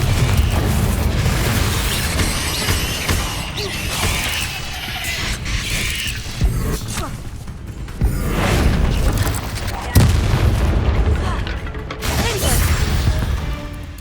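Confringo fire spell cast in the Hogwarts Legacy game during a fight with spiders in a house, with repeated booming blasts and crashes over a dense, rumbling mix of game effects and creaks.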